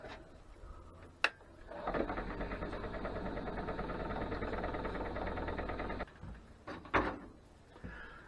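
A wood lathe spins a green-wood bowl blank, giving a steady mechanical whir and hum that runs for about four seconds. A sharp knock comes before it, and clicks and thumps follow once it stops.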